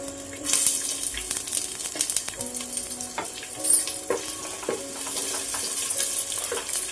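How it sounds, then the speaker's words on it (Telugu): Onions sizzle in hot oil in a pan, a steady hiss broken by scraping stirs and occasional metallic clinks of a utensil against the pan. "ఇది కొంచెం హీట్ అయిన తర్వాత ఇప్పుడు ఉల్లిపాయలు వేద్దామండి."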